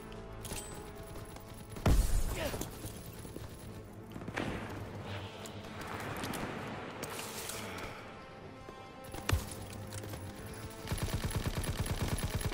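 Gunfire in Call of Duty: World War 2 rings out as scattered shots and bursts, with a heavy blast near the start and another later on, then a denser stretch of firing at the end over a busy battle backdrop.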